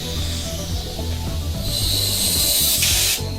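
Loud, close pressurized hiss of Lizard Skin sound deadening being sprayed onto a Mazda RX7 FC3S. The spray builds and strengthens midway, then cuts off abruptly near the end.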